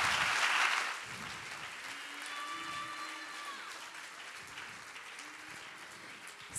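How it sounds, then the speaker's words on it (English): An audience applauding a panel, fairly soft, with a brief louder start before settling into a quieter steady patter, with faint voices and a tonal sweep in the background. "Can you guys give them a round of applause real quick?"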